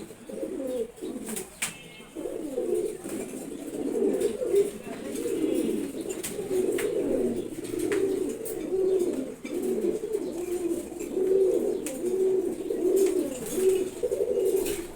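Pigeons coo steadily in low, rolling phrases throughout, close and fairly loud, with faint chirps and background noise.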